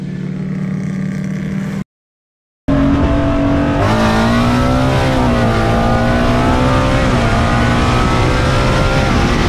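Ford Mustang 5.0 with a Holley manifold racing a BMW M240i, loud engines revving hard with rising gear pulls after a brief dropout, sustained and close.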